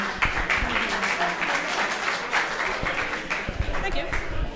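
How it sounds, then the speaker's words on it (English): Audience at an open mic meetup applauding a speaker, with a lively burst of scattered clapping from a small crowd at moderate distance and some voices mixed in. "Let's please give her a round of applause as well."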